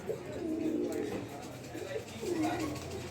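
A pair of racing pigeons cooing close by, with several soft, low rolling coos repeated in a loose rhythm while a person talks over them.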